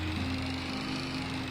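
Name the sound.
small green tricycle engine sounding like a lawnmower, video game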